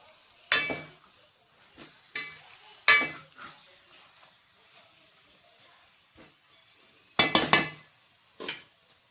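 A pot of Telangana-style fish curry with fresh coriander being stirred, giving several loud, close clanks and scrapes of a utensil against the metal in uneven bursts over a faint hiss.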